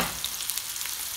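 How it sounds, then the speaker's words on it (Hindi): Chicken Afghani kebab pieces frying in a little oil on a grill pan, a dense close sizzle hissing steadily throughout with no talk. "अब मैं इसको फ्राई कर लूँगी हल्के ऑयल में।"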